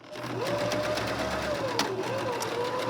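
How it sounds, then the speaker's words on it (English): A sewing machine runs steadily through a pillow seam, stitching forward then reversing a few stitches to backstitch, with a continuous close hum and motor whine that shifts slightly in pitch throughout. "So I'm gonna go forward 4 or 5 stitches and back 4 or 5 stitches."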